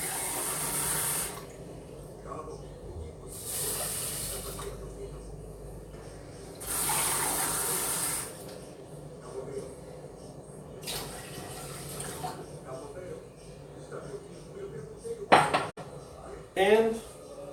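Two cups of water poured out in several separate bursts of splashing, each a couple of seconds long, with a brief clatter of dishes near the end.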